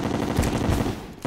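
Continuous rapid gunfire from homing bullets in Terraria, loud and dense with no break across the whole stretch, sitting over a busy game battle.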